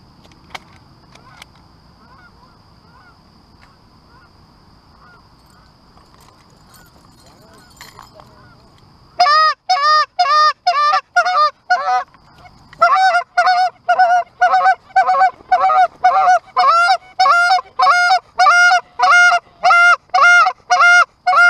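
A flock of geese honking as they fly overhead on an early-season goose hunt opening day, loud repeated calls arriving in dense bursts after a quieter stretch with low voices at the start.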